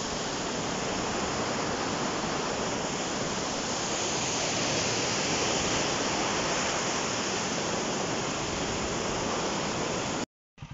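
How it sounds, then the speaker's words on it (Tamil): A waterfall beside the road to Munnar gives a steady, loud, unbroken roar of rushing water that holds evenly for about ten seconds, then cuts off abruptly near the end. "மூணார் போகிற வழியில் ஒரு ஃபால்ஸ் ஒன்று இருக்குது"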